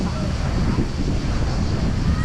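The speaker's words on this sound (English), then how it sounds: "It's a little bit windy today" Steady wind roars across the microphone on Sesi beach near Athens, a continuous low buffeting rumble with broadband hiss, loud and unbroken throughout.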